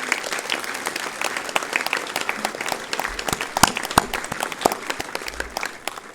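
An audience applauds the 121st train regiment at a 18 June 1940 commemoration in Dourdan: dense, steady outdoor clapping with sharp individual claps standing out, moderately loud throughout.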